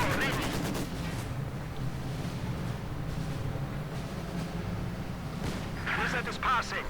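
Bursts of machine gun fire and booming explosions in a World War II real-time strategy game match, rapid rattling volleys at the start and again near the end over a dense battle rumble.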